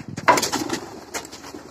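Pigeons in their coop give soft, low cooing calls in a few short bursts, close and fairly quiet, with no talk.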